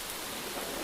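Steady rain falls in misty mountains as a dense, even hiss of drops with no breaks, moderately loud and enveloping, with no voices or other sounds over it.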